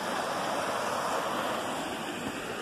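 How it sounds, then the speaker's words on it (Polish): Flowing water of the Olza river, a steady broadband rush heard up close and loud, continuous for the whole stretch with no voices. "doszedłem do rzeki Olzy."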